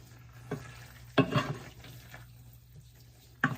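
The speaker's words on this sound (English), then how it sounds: "I'm sort of mixing it from the bottom so that the raw shrimp will cook," Raw shrimp and cauliflower rice stirred in a hot pan, giving a soft steady sizzle with a few brief louder scrapes and clatters of the utensil against the pan.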